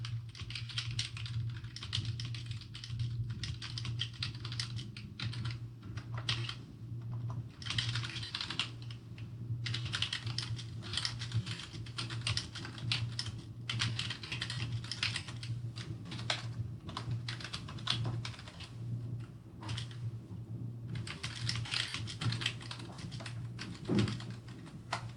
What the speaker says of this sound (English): For the purposes of this demonstration, I'm going to type a small message.